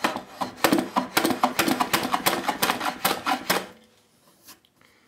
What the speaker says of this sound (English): start with a hand plane here, and it's set on just a fine cut